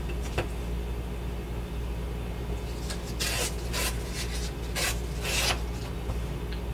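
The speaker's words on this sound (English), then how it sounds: "tear my book text sheets, tear off that white edge, and tear it into squares that I can use on my page" Printed book text pages are torn by hand into strips, giving several quick, rasping rips close up that come in short bursts over a low, steady background hum.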